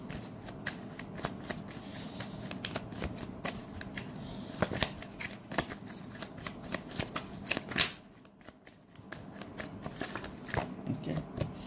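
Tarot cards being shuffled by hand, a steady run of crisp riffling and papery flicks with sharp snaps, close and moderately loud, briefly pausing near the end before resuming, with no talking.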